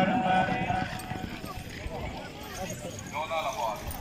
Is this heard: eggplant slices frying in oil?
no